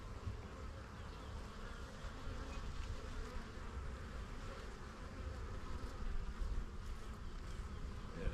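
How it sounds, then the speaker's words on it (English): Honey bees buzz steadily around open hive frames during a spring inspection, a dense, continuous hum from a very active colony that holds level throughout. "The bees are super active."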